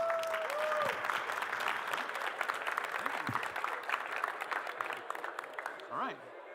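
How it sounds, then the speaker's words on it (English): An audience at a live-streamed conference talk applauds to welcome a speaker, with sustained clapping, a few whistles and whoops, and voices murmuring underneath. "Give him a big round of applause."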